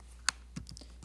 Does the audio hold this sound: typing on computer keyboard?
yes